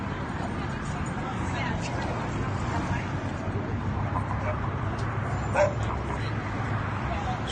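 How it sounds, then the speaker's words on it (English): Several dogs bark and yip nearby out of doors, with whimpers mixed in and one louder bark standing out, all under steady background noise. "There's dogs everywhere."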